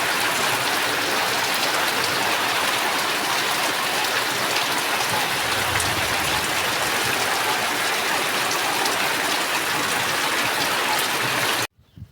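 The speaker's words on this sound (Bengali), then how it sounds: "খুব জোর বৃষ্টি হচ্ছে" Heavy rain pours steadily and densely during a village Lakshmi Puja fair, a loud continuous wash of drops with no talk that stops abruptly near the end.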